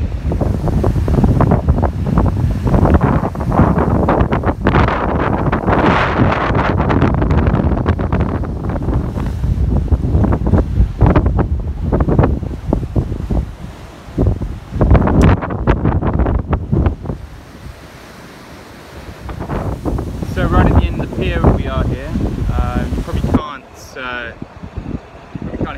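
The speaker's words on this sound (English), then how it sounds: "I don't know if you can hear me, because it is windy." Heavy wind buffets the microphone in loud, rumbling gusts that ease toward the end, with a voice talking underneath.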